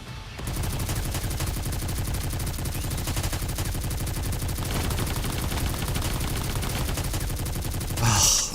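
Sustained rapid gunfire from a Goddess of Victory: Nikke battle, a dense continuous automatic stream at steady loudness for several seconds, ending in a brighter burst.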